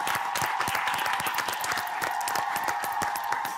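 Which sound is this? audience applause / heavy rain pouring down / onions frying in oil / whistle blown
audience applause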